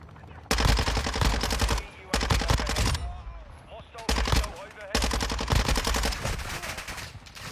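Rapid automatic gunfire in the video game Warzone 2, loud close bursts of machine-gun fire, several long strings separated by short pauses, with a voice talking between them.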